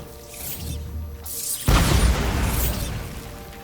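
A Bombarda spell blast from the video game Hogwarts Legacy: a soft whooshing build-up gives way to one sudden heavy boom with a crashing, rumbling tail.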